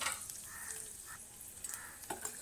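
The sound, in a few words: frying raisins, almonds and dry coconut in a pan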